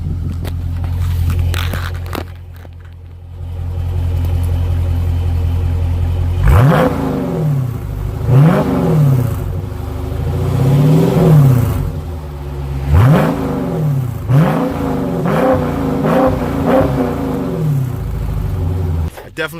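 A 2018 Dodge Challenger 392 Scat Pack in sport mode revs its exhaust repeatedly, five or six loud, close swelling blips rising and falling in pitch, after a stretch of steady idle rumble.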